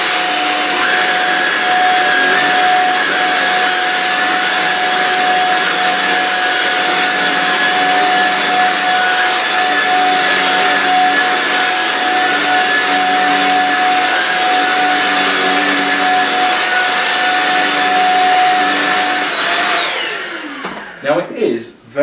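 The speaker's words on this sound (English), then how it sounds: "I am just going to have a quick vacuum of this carpet." A Shark Rocket Complete Duo Clean HV380UKT cordless vacuum runs steadily over carpet with its brush roll on high, giving a loud, constant whine with sharp tonal lines for about twenty seconds. The machine then powers down with a falling sweep.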